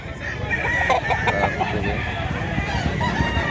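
A rooster at a Cebu poultry market in Mantalongon, Barili, clucks and crows loudly and close by, with a busy, noisy market background throughout.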